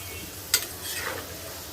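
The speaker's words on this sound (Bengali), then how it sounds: "বাচ্চাদের জন্য হচ্ছে আলু ভেজে নিলাম" Potatoes frying in a pan at home hiss softly and evenly, with one sharp click partway through and no talking.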